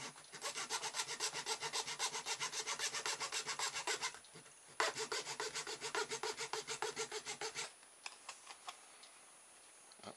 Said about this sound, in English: It'd probably have been better to have left it on the bottle to hold it still while I cut it.